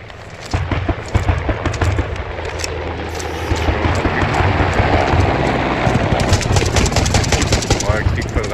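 Rapid gunfire bursts and heavy explosions rumble through a squad-based video game match, with a dense, loud barrage building toward the end while players chatter over it.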